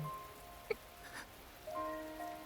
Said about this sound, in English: The sound of the rain outside our dark little room seems to grow louder.